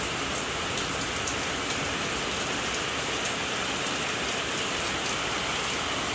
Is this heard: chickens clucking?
no